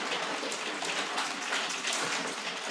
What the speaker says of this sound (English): and now it's fucking hailing